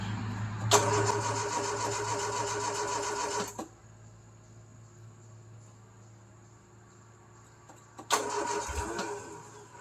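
A classic British car's engine cranks and catches after a couple of throttle pumps and a little choke, roaring loudly for a few seconds, dropping to a low idle hum, then revving loudly again near the end.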